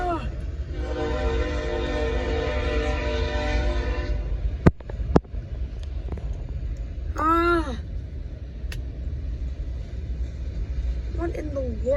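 An autorack freight train passes in Terrell, Arkansas, its horn sounding in a long steady multi-tone blast, then the deep rolling rumble of rail cars continuing, with squealing wheels and a few sharp clanks.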